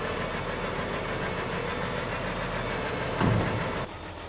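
Diesel engine, likely a tractor on a muddy farm, idles with a steady low knocking rumble nearby, briefly swelling louder near the end before settling back.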